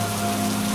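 A steady hiss of rain falls continuously, with a faint low hum beneath it.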